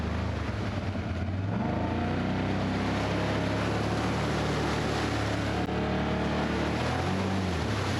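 A 2025 Can-Am Outlander X MR 850 ATV engine drones close and loud as it drives through a tunnel, revs rising and falling continuously throughout with no talking.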